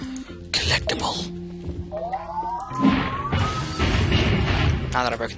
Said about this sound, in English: Now that I've broken that glass, I'm happy.